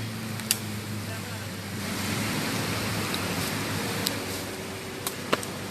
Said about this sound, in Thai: ฝนเริ่มหนักไปเรื่อยครับเริ่มแรงครับ